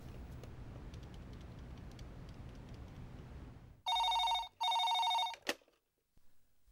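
A telephone rings twice in a home during an outgoing call, two loud, steady electronic trilling bursts followed by a brief click, after a stretch of low background hiss.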